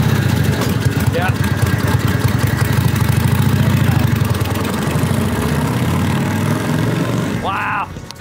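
A motorcycle that had sat unrun for 30 years, its engine running steadily with a rapid mid-pitched putter that holds fairly loud throughout, then drops away near the end.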